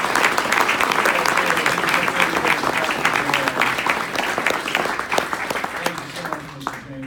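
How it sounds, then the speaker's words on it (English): A rally crowd at a campaign speech in Michigan breaks into loud, sustained applause that fills the room and stays fairly steady throughout, with faint cheers mixed in. "give his dad a round of applause"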